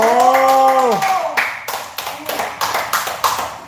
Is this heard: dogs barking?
no